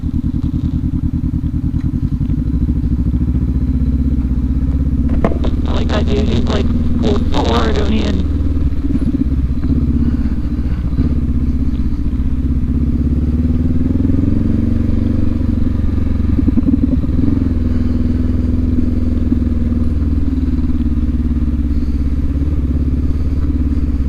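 Adventure motorcycles, a Honda CB500X, KTM 390 Adventure, BMW 310 GS and Africa Twin, trail riding on snowy single track, with a continuous close engine drone, shifting revs and occasional clattering thumps, under riders' talk.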